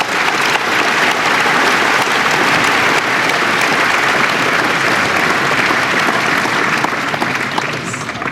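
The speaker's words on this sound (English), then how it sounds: "another huge round of applause for Bernie and for Michio Kaku" Sustained, dense applause from a lecture audience at an evening talk in Brisbane, steady and loud throughout with a hint of crowd noise underneath.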